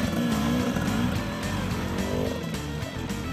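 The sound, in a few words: Husqvarna enduro motorcycle climbing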